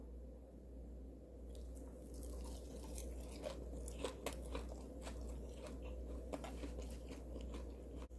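Repeated crisp crunches of biting into a crispy fried fatsia shoot (dureup) pancake dipped in sauce, scattered and fairly quiet over a low steady hum.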